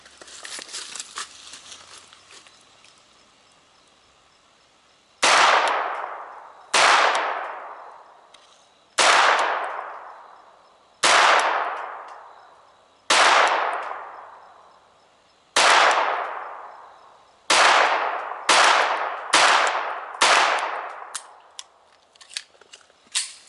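A Sig P250 chambered in .22lr fires at an outdoor shooting range, about ten sharp reports with ringing decay, spaced irregularly, the last few coming faster, after a quieter lead-in of handling noise.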